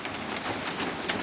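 Heavy rain at an off-grid homestead running into a 275-gallon IBC tote tank beside a tiny house on wheels, a dense steady hiss of falling and pouring water, close and continuous.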